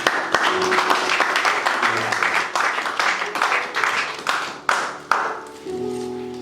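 A church congregation applauds to acclaim the word of God during a worship service, with dense, loud clapping that thins into scattered claps before fading out near the end.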